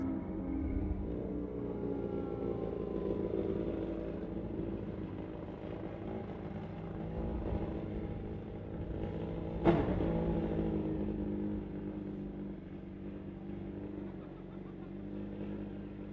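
Suzuki superbikes at a drag racing strip roar at a distance, a broad engine drone holding steady with a brief sharp peak midway through, fairly faint and without clear talk.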